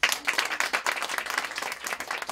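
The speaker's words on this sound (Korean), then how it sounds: "박수 한번 쳐주십시오" A small audience at a staff introduction for a stand-up community claps steadily, the separate hand claps distinct and fairly close, with no talk over them.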